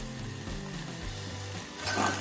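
Onions sizzle and fry in hot oil for chana curry, a steady, crackling hiss that grows a little louder near the end, with faint low tones beneath it.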